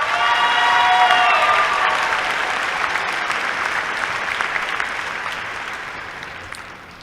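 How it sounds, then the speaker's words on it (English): Warm applause from a university spring commencement audience, a large crowd clapping steadily for several seconds and gradually fading out, with a few faint cheers at the start. "Would you please join me in a round of applause for their service?"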